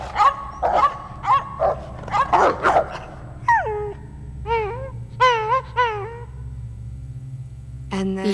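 Dogs barking indoors at night: a run of sharp close barks followed by higher whining yelps and whimpers, loud and spaced irregularly, with no speech.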